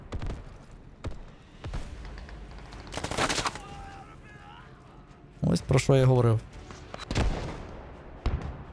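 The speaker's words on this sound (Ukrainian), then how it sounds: "По мені стріляє. Так, це по мені працюють." Bursts of rapid video game gunfire, including machine-gun fire, crack out in short volleys, some sharp single shots among them, while someone talks over the action.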